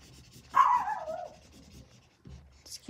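A tiny six-pound pet dog gives a single short yip or bark up close during a quiet drawing session, followed by faint scratching and soft rustling.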